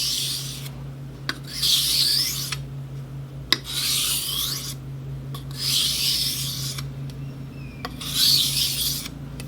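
A knife grinds on a Japanese whetstone in about six rhythmic rasping strokes, each roughly a second long with brief gaps between them. A low steady hum runs underneath.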